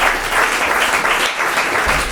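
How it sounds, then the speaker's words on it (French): An audience applauds improvisers at a cabaret show steadily, a dense wash of many hands clapping at once that holds an even level throughout. "on peut les applaudir"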